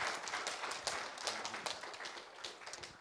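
A church audience at a special evening service applauds a pastor and his wife, giving steady, dense clapping that sounds soft and somewhat distant, with no voices over it.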